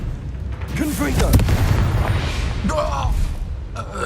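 Confringo fire spell blast from Hogwarts Legacy, a loud booming burst with a rumbling tail, mixed with brief vocal grunts and other combat effects.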